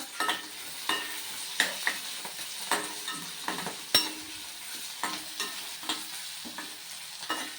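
Onions and green chillies frying in a pan over a medium flame, a soft sizzle running underneath regular scraping strokes of a spatula, about two per second, close and fairly quiet.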